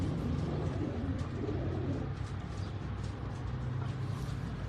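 Pigeons cooing in a loft, a dense continuous chorus of low, throaty coos from several birds close by, with a faint hum of traffic behind.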